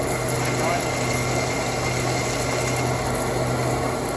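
A core drill runs steadily, cutting with a constant, loud, grinding whir and hum that holds throughout, with people talking faintly underneath.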